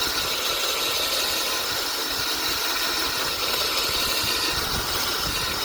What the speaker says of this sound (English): keeps your bit cool and preserves your diamond coring bit, and speeds up this cutting process